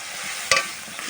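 Prawns (chingri) sizzle in oil in a frying pan while being stirred, a steady close hiss with one brief louder scrape of the spatula midway.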